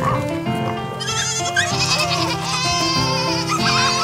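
A goat bleats within a children's farm song, its wavering animal cry set against bright, busy musical accompaniment throughout.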